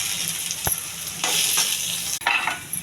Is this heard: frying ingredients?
yes